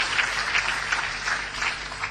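An audience at an IIT Bombay event applauds, a dense steady patter of many hands clapping at moderate distance, with no talk over it.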